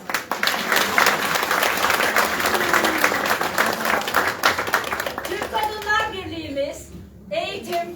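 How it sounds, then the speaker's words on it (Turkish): Lively applause and clapping from an audience at a public event in Tekirdağ, dense and loud for about five seconds and then thinning out, with children's voices and crowd chatter rising as it fades. "O zaman kendinizi alkışlayın"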